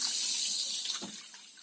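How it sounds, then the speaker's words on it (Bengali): Water pours in a brief, soft, steady stream onto sugar in a bowl while lemon ice is being made, a close splashing trickle that tapers slightly toward the end. "আমি জল দিয়ে দিচ্ছি"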